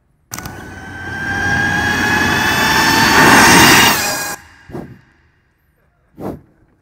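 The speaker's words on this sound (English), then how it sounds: "Let's look at a flyby of the bike." An Ultraviolette F77 electric motorcycle flies past, its whine and rushing noise swelling loudly for about four seconds before cutting off abruptly, followed by two brief faint knocks.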